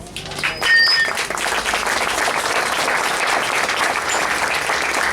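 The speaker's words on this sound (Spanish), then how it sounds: "Muchas gracias por los aplausos." Sustained applause from an audience at a book presentation, a dense wash of many hands clapping that swells quickly and holds steady throughout, close and loud.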